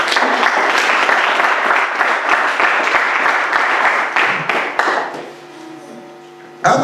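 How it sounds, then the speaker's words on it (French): A church congregation applauds during a worship service, a dense, loud burst of clapping with a few whoops that holds steady for several seconds, then fades to a murmur and a lone final clap. "Acclamons la parole de Dieu."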